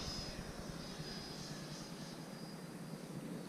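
Freewing L-39 Albatros 80mm electric ducted-fan RC jet passing with throttle applied, a steady, faint, distant whooshing roar with no talking.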